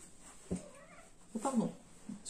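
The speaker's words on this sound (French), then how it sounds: "J'ai dit pardon à mon chat, je lui ai fait mal avec ma jambe" A pet cat lets out a couple of short, strained meows after being accidentally bumped by a leg, the second cry longer and louder, heard close up indoors.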